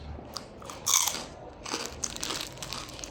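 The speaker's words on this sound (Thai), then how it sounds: "อันนี้พวกแคบหมูมากินแล้วนะครับ ต้องกรอบของมากแน่นอนเลย" Crispy pork rinds crunch loudly in a close bite, followed by a run of brittle crackling chews.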